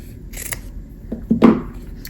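Scissors trim the fabric edge of sewn quilt seams on a patchwork table runner, giving two or three short, crisp snips close by in a quiet room.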